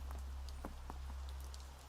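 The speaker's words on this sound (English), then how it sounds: "Go outside, it's raining." Rain falls steadily in the video game Where the Birds go to Sleep, a soft patter of scattered drops over a constant low hum, with no one speaking.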